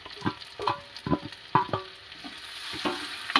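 Grated ginger and garlic frying in a pan, a quiet sizzle broken by several distinct scraping stirs spaced about half a second apart.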